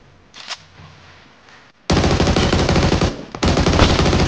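Loud, rapid automatic gunfire in PUBG Mobile, a sustained burst starting partway in, briefly pausing, then resuming, following quieter background game sounds.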